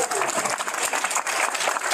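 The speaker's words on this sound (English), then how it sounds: "Let's give a round of applause for Lynette Kitikwa from LBJ Elementary" Steady round of audience applause at a Guam school counseling week proclamation signing, honouring an elementary school counselor, dense and continuous throughout.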